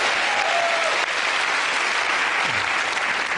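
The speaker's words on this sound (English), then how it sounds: "Good round of applause." A studio audience at a comedy panel show applauds in steady, dense clapping that fills the whole stretch, with a brief voice over it.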